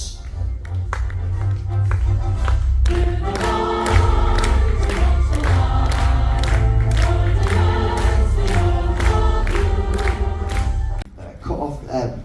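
A small group claps in time to a song playing in a nearly empty cruise ship lounge, steady rhythmic claps riding on loud music throughout.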